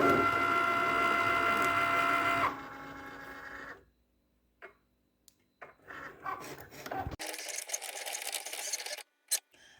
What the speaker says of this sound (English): we're going to press that, and our machine is going to start cutting